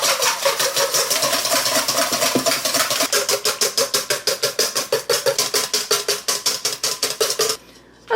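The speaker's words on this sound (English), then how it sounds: "I'm going to go ahead and whisk these egg whites until they're frothy" Egg whites are whisked to a froth in a bowl, a fast rhythmic metallic clatter that keeps a steady beat for several seconds, then stops abruptly.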